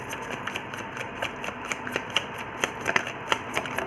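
Tarot cards being shuffled and drawn, heard as a steady run of soft, close papery flicks and snaps in an irregular rhythm with no talking.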